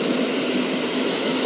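An eight-car Class 377 electric train arrives at East Croydon station, a loud, steady rolling roar of wheels and motors close by, with no voices.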